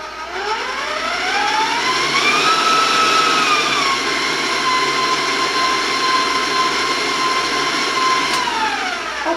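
An electric mixer whirs loudly at high speed through cake batter for an oatmeal raisin applesauce cake, its pitch rising as the speed increases, then holding a steady, close, continuous drone.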